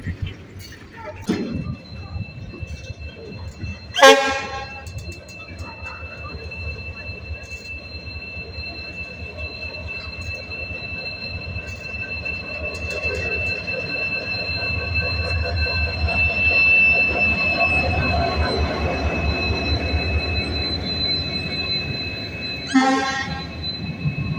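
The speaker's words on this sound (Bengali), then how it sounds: "আর একটা ট্রেন আসছে দেখো, ওই দিক থেকে তোমাদের দেখাচ্ছি" A train approaches at Dankuni station with a rising rumble and a loud screech of wheels, horn blasts sounding near the start and again near the end over a steady metallic hum, loud and close.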